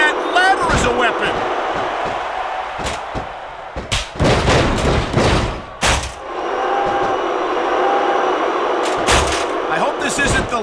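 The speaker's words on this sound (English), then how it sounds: "That was a heck of an impact with that ladder." Ladder impact in the WWE Smackdown vs Raw 2006 wrestling video game, loud heavy crashing slams repeated over a dense roaring crowd and commentary voices.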